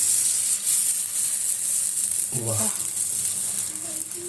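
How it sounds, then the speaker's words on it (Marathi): Thalipeeth sizzles on a hot tava, set down with its cloth. The frying hiss is loud and steady throughout, with a brief voice-like sound partway through. "तवा गरम झाला आहे आता मी त्याच्यावर थालीपीठ टाकते"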